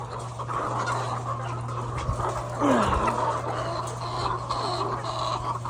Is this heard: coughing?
no